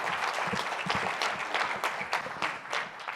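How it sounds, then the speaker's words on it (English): Audience applause at a workplace innovation talk, a continuous patter of many hands clapping at moderate volume with a little crowd murmur underneath. "Can we just give Sophie one more round of applause?"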